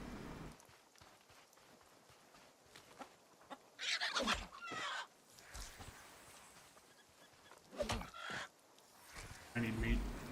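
Chickens in a video game: short, sharp clucking bursts sound at intervals against a quiet background, with some soft voice-like sounds between them.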